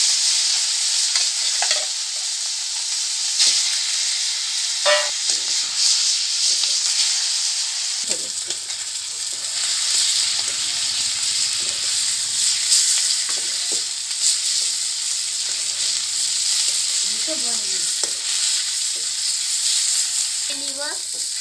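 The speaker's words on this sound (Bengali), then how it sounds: "আগে ভেজে নিব মাছটাকে।" Japanese puti fish frying in hot oil in a pan, a steady bright sizzle with occasional stirring clatter running throughout, close and fairly loud, with no talking.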